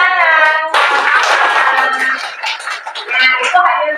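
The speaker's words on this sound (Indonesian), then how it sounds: "Tepuk tangan." In a classroom, students give a brief burst of hand clapping in the middle, mixed with voices talking before and after it.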